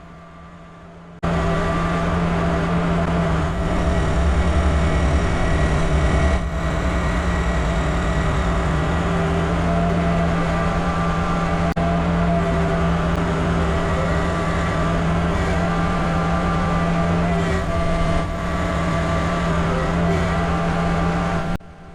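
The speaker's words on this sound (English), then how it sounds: "let you listen to this tractor just blow through it" A tractor snowblower engine roars steadily and loudly with a deep low rumble for about twenty seconds, working hard through compacted snow without letting up; no voices.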